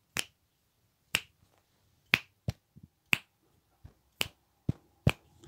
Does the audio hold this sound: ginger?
no